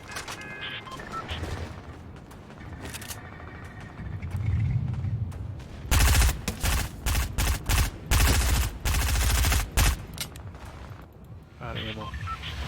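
Rapid bursts of automatic gunfire in the video game Fortnite, loud and clustered in the middle, with game effects and someone talking throughout.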